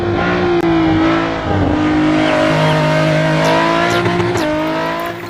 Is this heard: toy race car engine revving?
yes